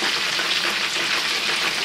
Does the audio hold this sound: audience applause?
no